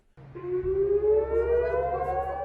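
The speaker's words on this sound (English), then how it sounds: "As sirens blare" A civil defense air raid siren winds up and wails steadily in Israel, loud and sustained with a rising tone, no voices.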